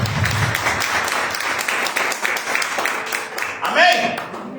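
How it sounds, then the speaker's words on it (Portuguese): A church congregation applauds during a worship service, a steady wash of clapping with a voice speaking over it, tapering off near the end. "Dá uma salva de palmas aí"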